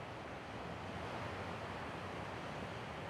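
Ocean surf rolls behind a seat on lava stones, a steady low wash of waves with wind, distant and even, no voices.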